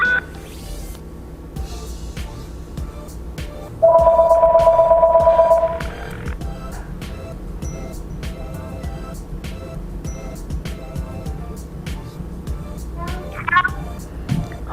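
A phone dials out through a Bluetooth smartwatch with a steady electronic tone lasting about two seconds, standing out over a constant low hum and faint background noise.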